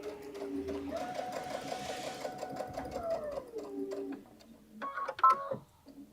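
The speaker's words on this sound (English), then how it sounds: "Your machine never feels like it's flying out of your control, and you can control it one stitch at a time." A Baby Lock sewing machine stitching a garment runs in a steady close whir with a rapid needle rhythm, slowing and stopping, followed by a few brief mechanical clicks.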